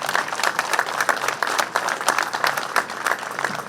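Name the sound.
crowd applause for Vic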